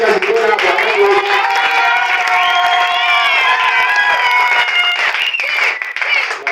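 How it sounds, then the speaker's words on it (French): A church congregation cheers, shouts and applauds loudly together for several seconds in a lively, sustained roar of acclaim. "C'est pourquoi nous acclamons pour notre papa"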